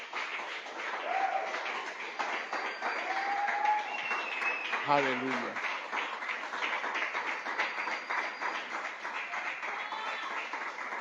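A church congregation claps together in a dense, sustained round of applause, with a voice speaking and exclaiming over the clapping throughout.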